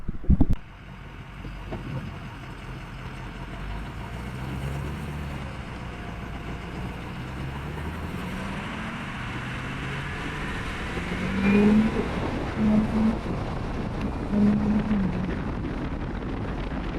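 A Ford Super Duty truck with a 6.0 Powerstroke diesel engine driving along back roads, with a steady low engine drone, rushing wind noise and a rise in revs partway through.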